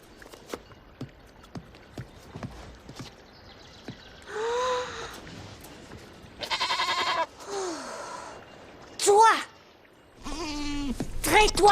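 A goat bleats several times in a fairy-tale drama scene, wavering cries mixed with hoof clops and footsteps, the loudest bleats coming late.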